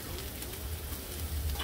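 Bratwurst cooks on a Blackstone griddle over low heat with a soft, even sizzle and light crackle, steady and fairly quiet throughout.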